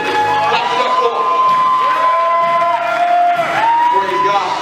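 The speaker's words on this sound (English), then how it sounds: "Clap it up for him" A church audience at Greater Friendship Azusa clapping and cheering for an honoree, loud and close, with whoops and shouts rising over a steady wash of crowd noise and a sustained musical tone underneath.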